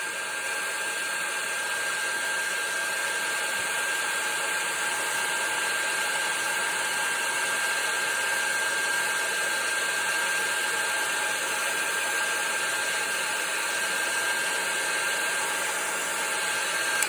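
A heat gun blows steadily over embossing powder for a card-making craft, a constant close whirring hum with a high whine, unbroken from start to finish and without voices.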